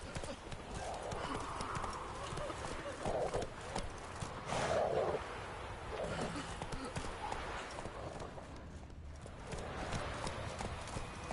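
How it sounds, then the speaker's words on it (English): Galloping hooves of the horse Roach in The Witcher 3, a steady clip-clop running throughout at moderate volume beneath game music and ambience, with a faint whinny and a voice speaking briefly. "Run, Roach."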